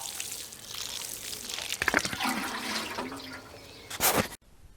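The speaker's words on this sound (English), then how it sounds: "Finally, give the plant a good watering." Water pours onto a freshly planted lupin in garden soil, a steady trickle-and-splash wash with a brief louder gush near the end before it cuts off.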